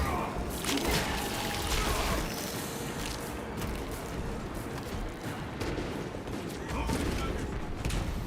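Video game gunfire in a Warhammer 40,000 Blood Ravens battle: a steady, dense barrage of rapid shots and clatter running throughout, loud and continuous, with occasional voice sounds mixed in.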